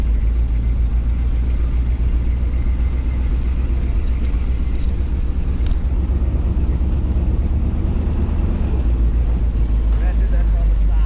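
K5 Blazer on 38-inch tires churning through deep snow, a loud steady engine roar and low rumble throughout, with people talking over it.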